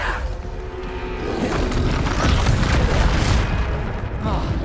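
A Descendo spell strikes with a heavy, loud boom in the Hogwarts Legacy video game, and a rumbling impact swells and sustains across the clip.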